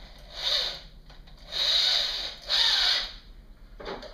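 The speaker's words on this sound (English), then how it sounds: "We're just going to drill a hole" A power drill with a 1¼ inch spade bit whines in three bursts boring a hole in a plastic bucket lid, the middle and last ones longer and steadier, with brief pauses between, close and fairly loud.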